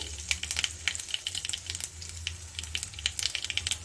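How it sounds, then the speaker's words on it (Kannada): Chopped ginger dropping into hot oil where mustard seeds have already popped, for masala aloo bonda; a steady close sizzle with fine crackling pops throughout, no voices. "ಇಲ್ಲಿ ನಾನು ಒಂದು ಸ್ಪೂನಷ್ಟು ಶುಂಠಿನ ಸಣ್ಣ ಸಣ್ಣದಾಗಿ ಕಟ್ ಮಾಡಿ ಸೇರಿಸ್ಕೊಳ್ತಾ ಇದ್ದೀನಿ"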